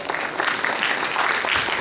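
A crowd at a municipal council event in Dungarpur claps together, with dense, continuous applause over a brief stretch.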